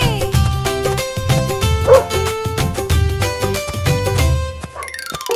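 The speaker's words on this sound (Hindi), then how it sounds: "कुत्ता राजा कहाँ चले, भौं भौं करके कहाँ चले" A cartoon dog barks in a children's Hindi nursery rhyme, its yips and bow-wows rising over a loud, busy musical backing that plays throughout.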